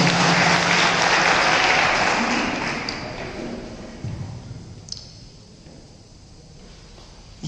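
An audience at a National Service Scheme special camp gives sustained, loud applause that gradually thins and fades toward the end, with a few louder individual claps near the close.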